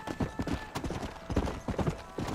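Horse hooves clip-clopping at a walk in the video game Red Dead Redemption, a quick run of sharp, close, evenly spaced knocks that lasts the whole moment, with no voices over it.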